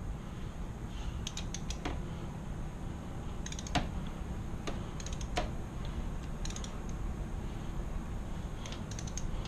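A torque wrench tightening the timing belt tensioner bolt on a Honda Civic D-series engine to 33 foot-pounds gives scattered faint, light clicks in short clusters, heard over a constant loud background hiss.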